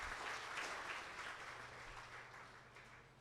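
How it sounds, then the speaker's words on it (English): Audience applause at the Caroni Hindu Mandir's Indian Arrival Day celebration, a dense, even patter of clapping that is faint and slowly fades over a few seconds. "Can we give him another round of applause?"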